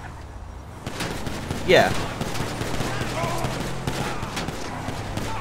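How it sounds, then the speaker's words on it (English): Bursts of gunfire crackle from a moving car in Grand Theft Auto V, steady rapid shots under engine and road noise, with a voice speaking briefly. "So wait, I'm driving and I'm shooting?"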